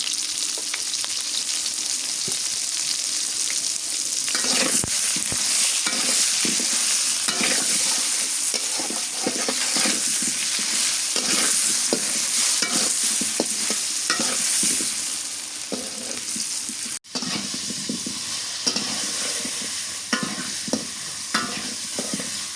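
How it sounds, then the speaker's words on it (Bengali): Potatoes fry hard in hot oil for a mutton curry, a dense continuous sizzle with scraping stirring strokes throughout and a brief dip near the end, no voices. "এই যে আলু দেখুন সুন্দর করে লাল লাল করে ভেজে নিলাম, কড়া ভাজা করে নিলাম"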